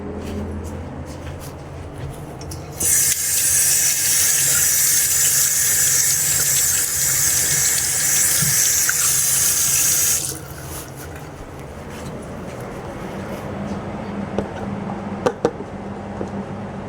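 Tap water runs steadily into a sink to rinse out a frog's dish, a loud continuous gush that starts abruptly, holds for about seven seconds, then cuts off, leaving quiet room tone with a few small clinks.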